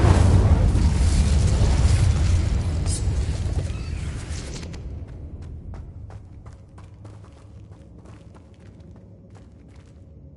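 Incendio fire spell cast in a Hogwarts video game, a dense roaring burst of flame that fades after a few seconds into quiet ambience with faint ticking sounds.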